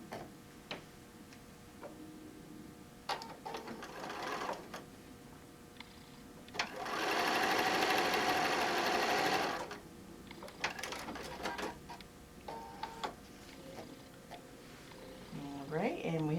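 Sewing machine stitching a seam on a small fabric bag, one steady whirring run of about three seconds in the middle, with quiet ticks and clicks and a person's voice around it.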